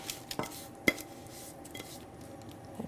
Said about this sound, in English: So once it's all nicely coated, then we take the tin and just spoon it in.